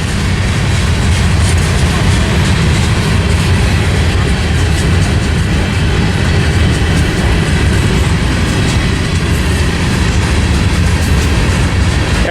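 A freight train rolls past at Tehachapi with a loud, continuous roar of wheels and cars, thick rumbling and rattling that holds steady throughout.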